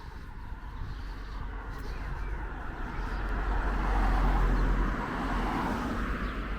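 A bus or other traffic passes along a village road on a bus route near Holt and Farndon on a hot, hazy day, a steady low rumble swelling to its loudest in the middle and easing off, with no talk.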